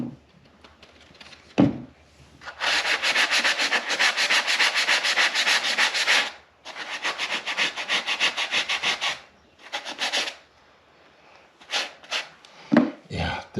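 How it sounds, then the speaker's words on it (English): Long stretches of steady abrasive scraping, sanding drywall mud on a tiny-house loft wall close up, broken by short pauses and a few brief rubs near the end. "I don't want to keep sanding through the paper"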